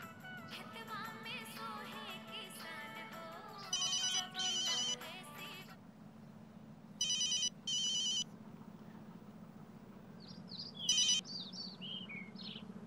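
Telephone ringing on an outgoing call, with several short repeated ringback bursts over steady background music, followed by bird-like chirping tones near the end.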